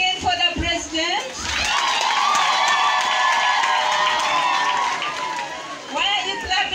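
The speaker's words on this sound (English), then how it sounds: "Can you clap again for the president?" A crowd claps and cheers steadily at a presidential event in Uganda, the loud mixed applause and voices holding for several seconds between stretches of talk.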